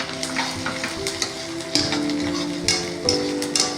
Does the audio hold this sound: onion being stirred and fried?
yes